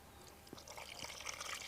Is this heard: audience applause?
no